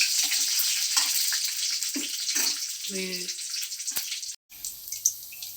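Dried red chillies crackle and sizzle in hot oil for a gongura chutney tempering, a steady broadband hiss with scattered pops, while someone speaks briefly over the frying.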